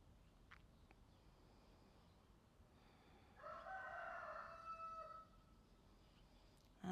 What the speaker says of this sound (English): Chickens are joining us today.